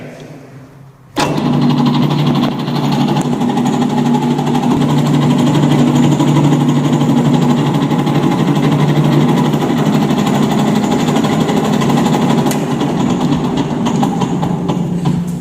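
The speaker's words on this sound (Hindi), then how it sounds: "इसे पास में ले जाके इस पे होल कंप्लीट करेंगे" A lathe running steadily while a centre drill bores a hole in the end of a workpiece held between centres with a catch plate and dog, a continuous near machine hum with tonal whine starting abruptly after a second of quiet.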